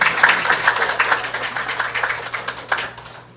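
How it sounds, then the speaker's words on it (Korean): An audience at an academic religion conference applauds to welcome the discussion moderator, giving dense, steady clapping that tapers off toward the end. "윤승용 박사님을 큰 박수로 맞이해 주시기"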